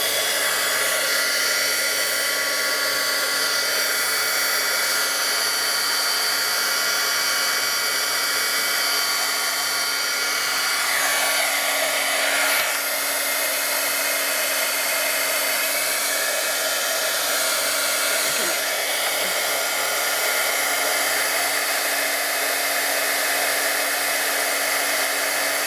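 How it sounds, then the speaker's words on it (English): Heat gun warming iridescent ice embossing powder, a loud, steady, close blowing whir that runs unbroken throughout, with no talking. "now the iridescent ice, we will use the heat gun"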